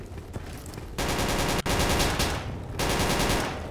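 Automatic weapons firing in STALKER: Call of Pripyat, loud sustained bursts of rapid gunfire that roll on almost without a break, with a brief gap partway through.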